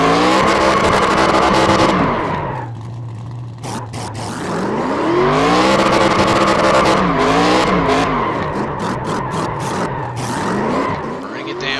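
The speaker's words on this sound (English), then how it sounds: "Burning it down here at the Texas Motor Speedway in celebration" A race car doing a celebratory burnout at Texas Motor Speedway in iRacing, loud engine revving in repeated rising and falling sweeps over screeching tires, with a voice talking over it.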